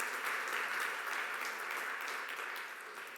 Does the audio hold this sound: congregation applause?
yes